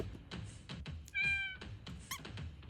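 A cat statue in the video game Deltarune gives a short, clear synthesized meow in the middle, set among soft footstep-like taps and a brief chime.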